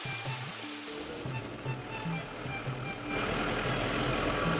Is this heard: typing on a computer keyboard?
no